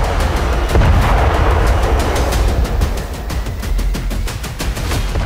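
A blast destroys stored Hezbollah rocket launchers and drones in an Israeli strike, heard as a loud, sustained rumbling roar with rapid repeated cracks and pops running throughout, with no voices.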